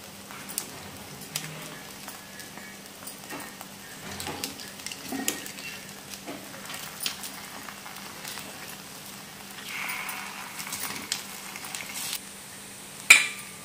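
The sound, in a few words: rava appe frying in an appe pan being flipped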